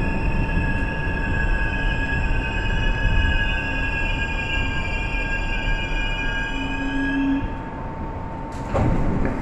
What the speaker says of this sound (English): This is the Bronx Bound 1 train.